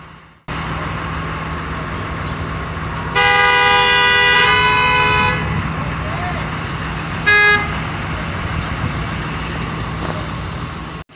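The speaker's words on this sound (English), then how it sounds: "you can see the crazy traffic here in Brooklyn. Everybody's honking." Car horns honk in heavy Brooklyn street traffic, one long sustained blare followed by a shorter toot, over a steady roar of road noise.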